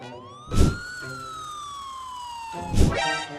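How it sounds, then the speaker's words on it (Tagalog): A small ambulance in the Avatar World mobile game wails with a rising-and-falling cartoonish siren, clear and prominent, punctuated by two short bursts of other game noise. "Oh, tingnan mo ang paparating doon. Isang maliit na ambulansya."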